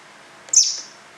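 A baby robin being hand-fed lets out a single sharp, high chirp, close and clear over a quiet background.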